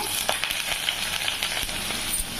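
Onion and curry leaves frying in generous oil for a soya chunk sukka, a steady close hiss and sizzle with small pops and crackles throughout.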